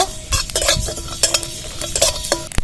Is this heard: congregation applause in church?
no